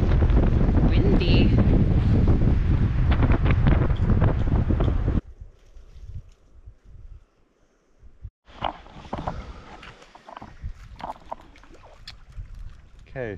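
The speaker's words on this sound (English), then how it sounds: "Windy." Strong wind roars and buffets the microphone for several seconds on a backcountry canoe trip in Quetico, then drops to a quieter gusty background with light rustling.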